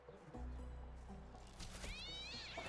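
A cat meows in the video game Divinity Original Sin II, with a drawn-out wavering cry over a dense bed of game music and ambience, fairly close.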